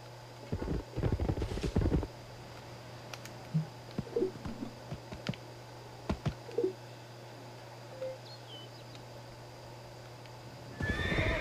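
Horses in an Age of Empires-style strategy game give several short neighs and whinnies, separated by quiet gaps over a steady low hum, with a few soft hoof clops.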